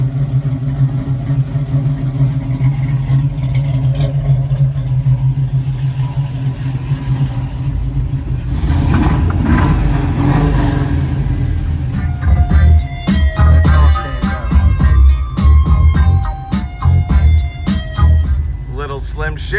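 A 1970 Chevrolet Nova V8 with a performance cam: a loud, lumpy idle with a deep throb, then sharp blips of revving and a choppy, pulsing exhaust note, with a voice talking over it.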